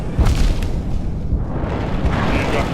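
Nightmare King Grimm's fire pillar attack in Hollow Knight, a dense sustained roar of booming, rumbling bursts filling the game soundtrack, loud and continuous with heavy low thuds throughout.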